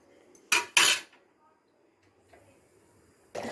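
A few sharp metallic scrapes and clinks of a utensil stirring rice and water in a cooking pot, two close together then a pause and another, with quiet stretches between.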